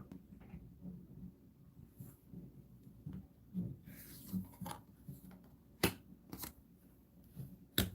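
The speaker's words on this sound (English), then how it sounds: "Switching 2 cards up ahead" Playing cards from The Lost Expedition board game shuffled and swapped on a table, with soft sliding rustles and several sharp card snaps, close and quiet, with no talking.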